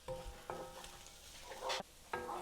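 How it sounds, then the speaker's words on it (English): Chopped ginger and garlic sizzle in a pan while being cooking for a fish curry. A utensil scrapes and stirs through them in a few short bursts, close and faint, with no talk. "I'm just going to add the chopped up ginger and garlic, and then just going to give it a couple more minutes to cook."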